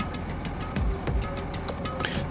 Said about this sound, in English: First thing I noticed was the roaring engine of a nearby truck.